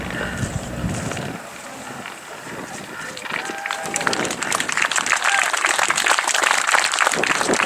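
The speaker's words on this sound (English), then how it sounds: "I think a very large round of applause for Mr. Hind" Crowd applause at an Old Warden flying day air show, a broad steady patter of clapping that swells toward the end, heard outdoors with wind noise and no talk over it.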